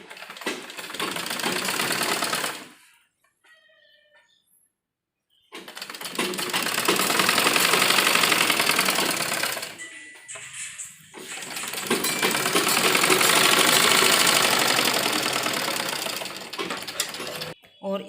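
Sewing machine stitching a blouse, running in two long steady bursts of rapid mechanical clatter broken by pauses, close and loud, with short quieter gaps between runs.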